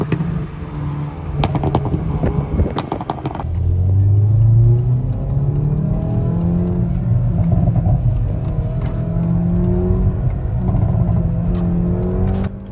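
A 2024 Hyundai i30N sends out a loud, close exhaust note. A few sharp clicks come first, then the engine surges into a strong rev with rising and falling tones that keep rumbling and revving to the end.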